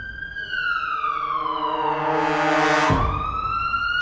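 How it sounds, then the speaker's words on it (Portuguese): An ambulance siren wails close by, its tone sweeping steadily down and then abruptly jumping back up, loud and continuous with no talk over it. "O som das sirenes cortava o ar como uma faca afiada"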